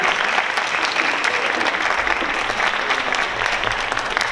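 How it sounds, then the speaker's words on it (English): Steady, loud applause from an audience at a school board of education meeting, honoring a class of students, with many hands clapping evenly throughout. "Can we give them a round of applause?"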